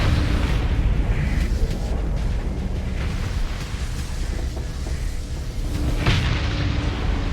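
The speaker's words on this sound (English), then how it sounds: "I do insane burst damage and just blew up the Eradicator that was in my face" A spaceship blows up in the space combat game Starsector, a deep, rumbling explosion that fills the whole stretch with dense, loud booming and crackling, swelling again near the end.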